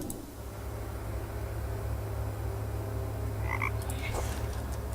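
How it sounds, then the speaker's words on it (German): Frog croaks in the video game Raincliff, a couple of short, clear croaks late in the stretch over a constant low ambient hum, close and distinct, with no talking. "Ein Frosch."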